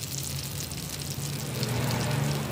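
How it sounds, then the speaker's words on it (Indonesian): Ground spice paste sautéing in used frying oil for Indonesian yellow pickles, a steady close sizzle and crackle running throughout with no talk. "kita tumis bumbu yang sudah dihaluskan menggunakan minyak yang tadi bekas ini"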